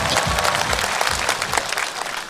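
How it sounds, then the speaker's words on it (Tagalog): A rally crowd in Tagum City claps thunderously for the provincial governor, a dense, sustained burst of many hands close and loud, with no voices over it. "isa ka makabongog nga palakpak"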